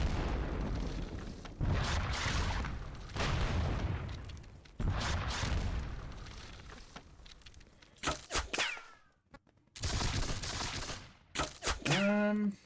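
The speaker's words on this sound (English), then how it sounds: "preliminary artillery fire, shall we? Blast them." Artillery fire in a Seven Years War strategy game at the Battle of Zorndorf: a rapid series of heavy booming blasts rolls out in overlapping volleys, followed by a few sharper bursts and ringing tails near the end.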